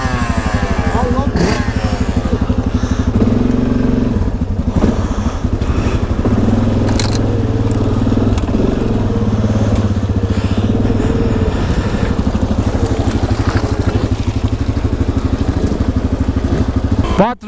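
A four-stroke ATV engine runs outdoors near forest tractor tracks, giving a loud, continuous rough drone with steady rattling texture while people talk over it.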